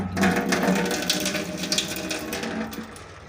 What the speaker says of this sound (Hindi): ये नलका हमने अभी फुल खोल दिया,